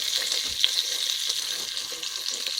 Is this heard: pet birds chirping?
no